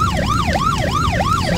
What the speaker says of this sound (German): Krankenwagen.